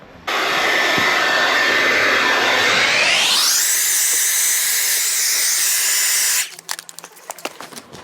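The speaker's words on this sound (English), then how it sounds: "I'm going to do it with a hairdryer" A hairdryer blows steadily at a car panel being prepped for spraying at home, a loud continuous airy roar that shifts pitch higher partway through, then cuts off leaving faint clicks and handling noises.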